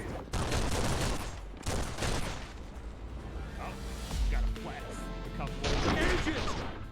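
Gunfire aimed at an agent in a Matrix video game comes as several loud bursts and volleys between quieter stretches, with people talking briefly amid the shooting.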